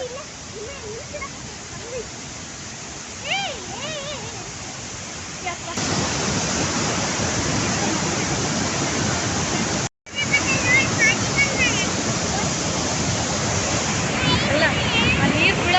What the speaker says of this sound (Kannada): ಎಷ್ಟು ನೀರಿನ ಸೌಂಡ್ ಎಷ್ಟು ಕೇಳ್ತೈತಿ ನೋಡ್ರಿ